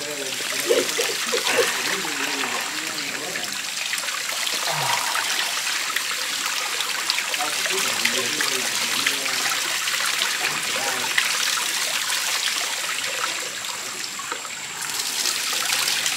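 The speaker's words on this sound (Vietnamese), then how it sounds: "Trong khi tắm thì các bạn có thể nghe những cái tiếng suối róc rách" A babbling mountain stream at Panhou Retreat in Ha Giang, Vietnam, trickles and splashes continuously, a bright rushing wash of water with faint voices murmuring underneath now and then.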